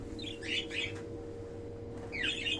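Cockatiels in a home balcony breeding aviary give a few bright chirps, a short cluster early and another near the end, over a steady low hum.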